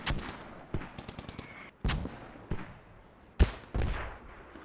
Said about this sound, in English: Mortars going down now on the hub.